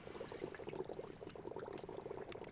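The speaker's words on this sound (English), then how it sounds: "you need to hear the bubbles" Lye soaking in rainwater, a faint, continuous fizzy bubbling and crackling heard close up with no voices.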